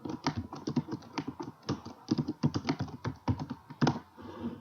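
Computer keyboard keys being typed in quick irregular bursts of clicks, close and clear, with no talking over them.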